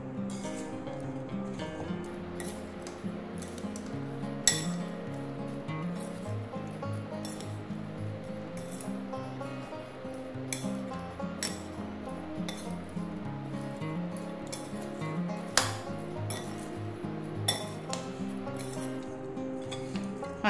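Lemon pickle is stirred with oil in a bowl, giving a steady run of soft scraping and stirring with frequent clinks of a spoon against the dish, close and quiet throughout.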